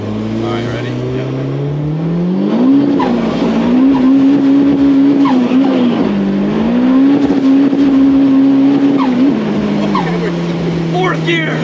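A modified car in Connecticut pulls hard in fourth gear with its wheels spinning; the engine note climbs and holds a loud, steady drone with surges and dips from inside the cabin, and voices are briefly present.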